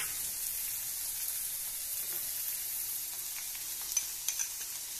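Onions and bell peppers sizzle in a pan for white sauce pasta, a steady hissing frying noise that stays even and fairly faint, with a few light clicks near the end and no voices.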